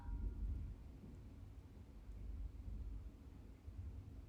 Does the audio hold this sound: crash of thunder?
yes